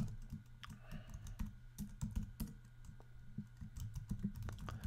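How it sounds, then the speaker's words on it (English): Close, steady typing of an address on a computer keyboard, with quick irregular key taps over a low background hum and no talk. "so I will type in my address right here and then just hit locate."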